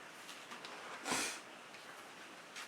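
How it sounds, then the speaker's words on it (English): A single quick, breathy sniff stands out against quiet background hiss. "I'd love to stop sniffing."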